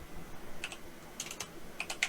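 Typing on a computer keyboard: a handful of light, quick keystroke clicks in small irregular bursts, close and fairly quiet.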